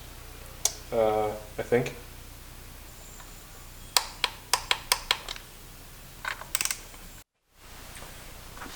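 A torque wrench tightens the valve cover bolts on a BMW M50 engine, giving a series of sharp, close clicks in quick bursts, with a brief spoken remark before them.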